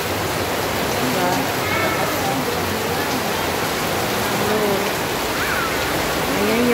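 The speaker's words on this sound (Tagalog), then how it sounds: "Ang lakas ng ulan." Heavy rain pours down in a steady, loud rush under a fruiting rambutan tree, with faint voices in the background.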